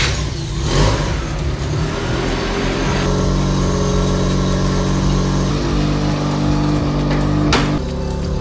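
Mazda RX-7 FC3S rotary engine fitted with a big turbo runs steadily and loudly close by, its mid-pitched drone holding through the whole stretch with slight rises in pitch and a brief sharp burst near the end.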